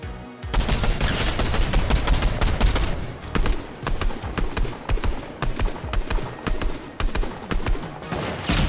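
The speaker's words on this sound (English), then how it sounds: "I'm being shot at by another whole team" Sustained rapid gunfire from an enemy team in an online shooter game, a dense continuous stream of loud close shots that breaks into bursts after a few seconds, with no talking.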